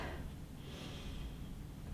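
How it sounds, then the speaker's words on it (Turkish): A long, deep breath drawn in during a vinyasa yoga flow: a soft, faint, steady rush of air lasting about two seconds, heard alone. "Derin bir nefes al."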